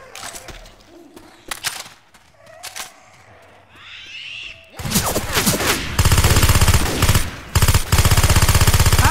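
Automatic gunfire from Left 4 Dead 2 gameplay, starting with scattered shots and growing into loud, sustained rapid bursts that fill the second half, a railgun in the mix.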